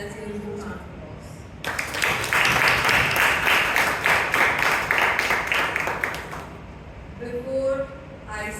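A round of applause from the audience at a Bangalore Toastmasters club meeting: dense clapping erupts abruptly, holds loud and steady for about four seconds, then fades as a speaker resumes talking.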